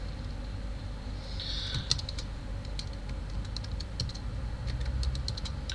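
Typing on a computer keyboard while writing simple HTML code, with scattered quick clicks and short bursts of keystrokes over a low steady room hum, close and fairly quiet, with no talking.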